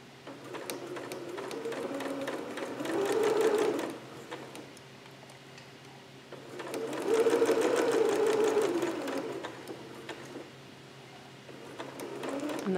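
Domestic sewing machine stitching a Vogue 8280 garment, a steady close mechanical whir and tapping with two louder, faster surges of stitching in the middle of the run.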